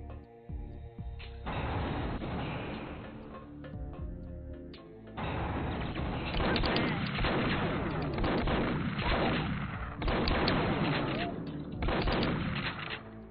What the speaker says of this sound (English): I do like how the shotgun has a double shot feature.